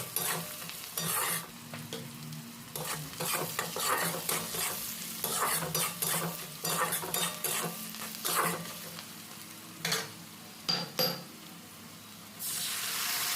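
Onion frying in oil with cinnamon, cloves, cardamom and black pepper, a spoon stirring and scraping the pan in repeated strokes over a soft steady sizzle, with no talk.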